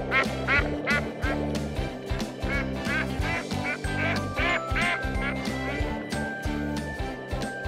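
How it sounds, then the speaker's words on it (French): Repeated quacking calls from a toy duck overlap throughout, with a voice talking at times, a busy cluster of honks and quacks heard close. "Quel drôle de canard!"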